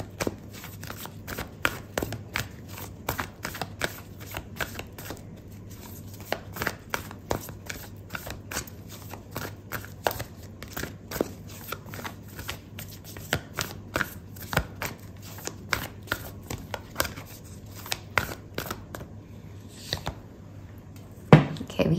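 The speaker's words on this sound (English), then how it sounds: "I'm gonna pull out an oracle card for you" Oracle cards are shuffled during a tarot reading, producing a long run of soft, close riffling and flicking clicks in irregular bursts at low volume, ending with a slightly louder tap.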